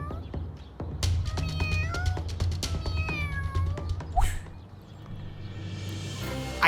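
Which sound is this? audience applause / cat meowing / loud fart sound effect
cat meowing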